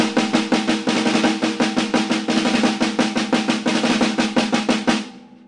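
Rapid drum exercise with sixteenth notes played by the fingers and eighths by the wrist, bass drum left out, heard as a steady, loud, evenly pulsing stream of close strokes that stops abruptly and rings out briefly.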